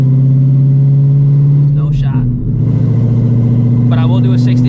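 A 900-horsepower Shelby GT350 engine holds a loud, steady drone through a hard 60 to 130 mph pull, with a brief dip in tone near the middle like a gear shift before the pull carries on.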